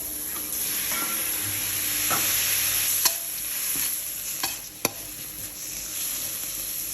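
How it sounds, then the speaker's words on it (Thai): Shrimp and squid are stir-fried in a hot pan with a splash of water and minced pork. A continuous loud hiss and sizzle runs throughout, with a few sharp spatula clacks against the pan. "ผัดให้กุ้งกับหมึกนะครับพอสุกครับ"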